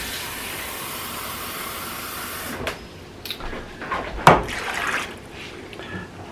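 Water pours into a pot of vegan root vegetable soup with a steady, rushing hiss that thins out and gives way to a few clunks and splashes near the end, with no speech.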